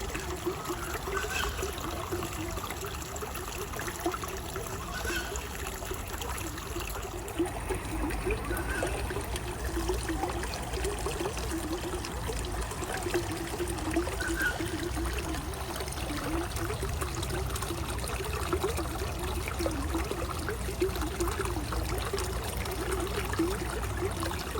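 Rainwater trickling steadily outdoors in a garden spot, a continuous close wash of dribbling liquid with a faint high whine above it and no voices.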